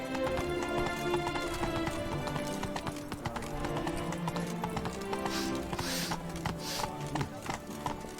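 Roach, the horse in The Witcher 3: Blood and Wine, gallops with rapid, steady hoofbeats that continue without break, set against in-game ambience and music.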